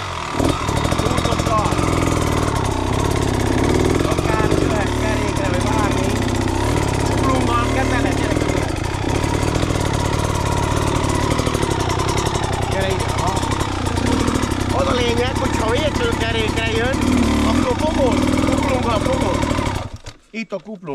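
Enduro motorcycle engine idling and running steadily at close range on a very slippery steep slope, with someone talking over it throughout before the engine sound cuts off near the end.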